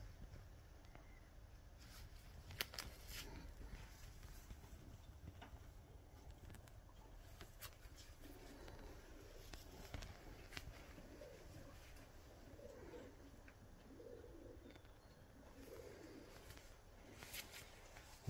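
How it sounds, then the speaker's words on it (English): Racing pigeons in a loft give soft, low cooing calls in scattered bursts. The calls are faint against a steady background hiss, with occasional clicks and shuffles. "The father of this pigeon is direct from Jan Boelens."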